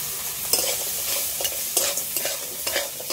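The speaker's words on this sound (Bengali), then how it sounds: "সবগুলো একসাথে একটু হালকা করে নেড়ে নিলাম" Crab and fried eggplant being turned together in a pan, a spoon scraping and clinking in irregular strokes over a soft, steady frying sizzle.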